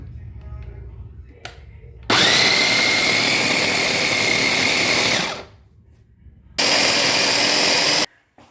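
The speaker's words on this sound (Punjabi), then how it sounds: "ਆਹ ਆਪਾਂ ਬਲੈਂਡਰ ਵਿੱਚ ਸਾਰਾ ਸਮਾਨ ਪਾ ਲਿਆ" A kitchen blender grinds ingredients for a turnip and peas curry with fresh turmeric, running loudly in two bursts: a long whirring run, a pause, then a shorter second burst.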